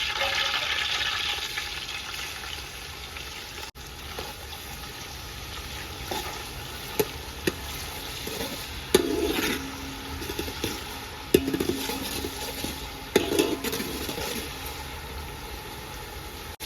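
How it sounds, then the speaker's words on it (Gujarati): Steady sizzling of onions frying in hot oil, with occasional soft clinks and stirring scrapes, no talking. "તેલ ગરમ થઈ ગયું ને આપણે નાખી દઈએ ડુંગળી"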